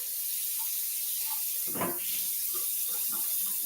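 Hands being washed under a running kitchen tap: a steady hiss of flowing water, with one brief louder splash partway through as the hands move in the stream, nearby and alone.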